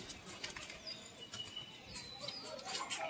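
A pigeon flutters its wings in short bursts among other Gola pigeons kept in Kanpur, with faint chirps and outdoor background noise, fairly quiet and a little distant.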